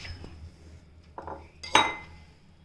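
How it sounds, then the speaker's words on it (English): Red amaranthus pulusu (erra thotakura pulusu) being served into a dish, a ladle or spoon clinking and scraping against the pot and plate in a few quick, close metallic knocks, no talking. "Now dish it out."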